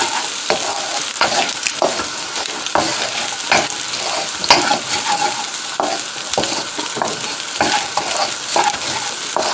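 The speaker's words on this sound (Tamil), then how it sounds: "இப்போ நான் இதுக்குள்ள வெட்டி வச்சுருக்கிற லீக்ஸில் வந்துட்டு போட போகிறேன். எல்லாத்தையும் போட்டு வறுக்கணும்." Chopped leeks stir-frying in a pan for fried rice, a loud, close, steady sizzle punctuated by rhythmic scraping and tossing strokes of a spatula every second or so.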